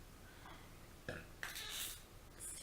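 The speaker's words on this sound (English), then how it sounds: "Just burped." A person burps during a makeup tutorial: one short, soft belch stands out over quiet room noise, followed by small faint handling sounds.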